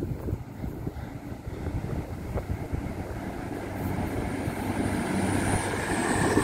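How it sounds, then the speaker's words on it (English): A train rumbles past close by at Dore and Totley station, a steady low roar that builds in loudness toward the end, with faint rhythmic clatter and wind buffeting. "There's a train coming."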